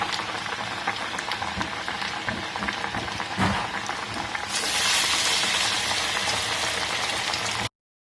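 White peas masala vada fry in hot oil with a dense, continuous crackling hiss that swells louder partway through before cutting off.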